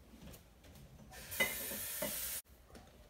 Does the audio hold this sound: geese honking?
no